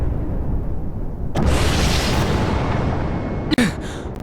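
A loud explosion in an anime game scene erupts suddenly into a broad, sustained roar that slowly fades, with a sharp crackling burst near the end.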